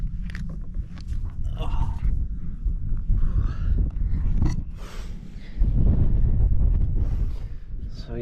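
Strong wind buffets the microphone on an exposed Peak District hilltop by a trig point, a continuous loud low rumble with gusts swelling near the end, while a hiker speaks over it.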